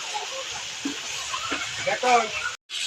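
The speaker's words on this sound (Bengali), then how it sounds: "দিয়ে ভালো করে আমি এবার কষিয়ে নেব" Spices sautéing in a pan at home give a soft, steady sizzle and hiss with faint stirring scrapes, while a voice talks over it.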